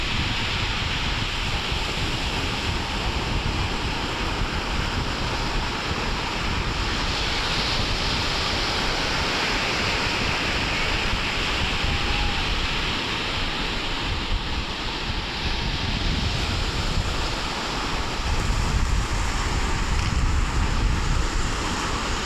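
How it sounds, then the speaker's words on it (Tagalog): Strong surf rolls in steadily on a beach at Mercedes, Daet, Camarines Norte, a continuous roar of breaking waves mixed with wind buffeting the microphone, with no voices. "yun yung mga alon guys naliligo doon sa unahan ako lakas pa naman ng alon dito"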